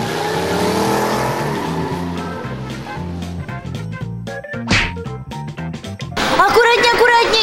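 A small ride-on car drives with a steady revving, engine-like drone under loud background music, ending in a burst of busier, harsher noise.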